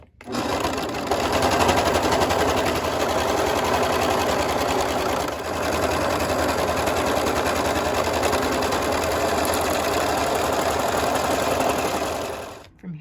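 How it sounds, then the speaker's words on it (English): A serger runs steadily, overlocking the seam allowance on a jogger set, a loud continuous mechanical whir with rapid stitching pulses that holds for about twelve seconds before stopping. "I'm just going to do my extra stitch on my serger here"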